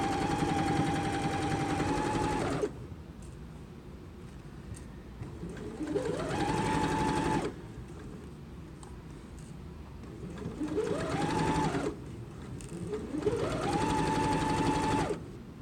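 A home sewing machine stitches a patchwork pillow in several loud whirring runs, each rising in pitch as it speeds up, separated by short quiet pauses while the fabric is adjusted.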